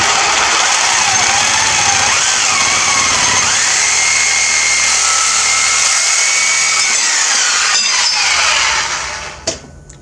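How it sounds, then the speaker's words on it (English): A Black & Decker Sawzall reciprocating saw fitted with an Ugly blade cuts through metal bracket stock, a loud, steady, high-pitched buzzing whine with shifting tone that runs continuously before cutting off abruptly near the end. "Here in my Sawzall, I've got a ugly blade."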